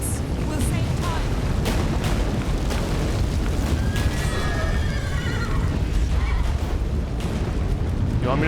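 A horse in The Witcher 3: Wild Hunt gives a wavering whinny midway, set against a loud, continuous rumble of booming battle noise.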